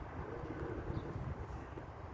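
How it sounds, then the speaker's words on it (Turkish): Low rumbling wind buffeting the microphone outdoors, a steady muffled roar with no voices. "Biraz da rüzgarlı bir ortam var"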